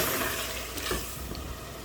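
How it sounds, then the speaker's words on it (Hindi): Coriander powder and masala fry gently in a pan over a medium-to-low flame, giving a soft continuous sizzle with a brief stirring scrape. "इसको मीडियम टू लो फ्लेम पे ये रखा है मैंने, इसको भून रही हूँ हल्का हल्का, थोड़ा थोड़ा मसाला डाल के।"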